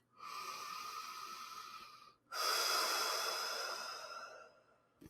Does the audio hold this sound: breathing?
yes